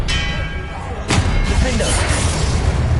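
Expelliarmus spell cast in Hogwarts Legacy on PS5: a sharp, loud booming burst lands about a second in, followed by a sustained, rumbling wash of noise.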